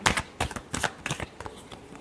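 Tarot cards being shuffled during a love reading, a run of quick riffling bursts in an irregular rhythm, close and fairly quiet with no voice.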